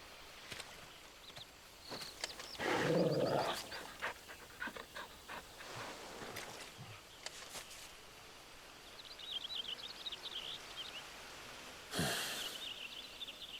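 A dog panting in Final Fantasy 16, quick breathy pants and snorts up close in bursts, with faint bird calls in the game's ambience behind.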